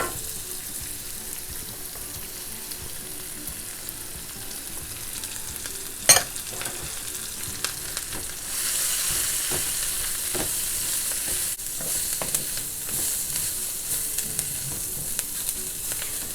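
Carrots and cabbage stir-frying in a pan for Chinese spring roll filling, with a steady close sizzle, occasional sharp spatula clinks and brighter crackling after the cabbage goes in. No one speaks.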